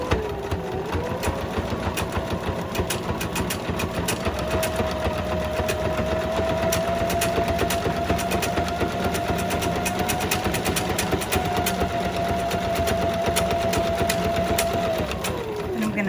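A sewing machine runs steadily for a long stretch, stitching two joined pieces of a floral placemat in one continuous, even buzz with a faint steady whine and the motor winding down at the end.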